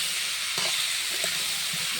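Pumpkin fries in a wok with a steady, even sizzle and an occasional soft stir, close and continuous with no talking.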